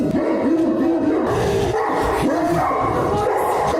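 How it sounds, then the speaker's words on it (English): A Cane Corso barks repeatedly in deep, loud, rapid bursts with whimpering yips between, close by, with no talk over it. "here's some Cane Corso barking"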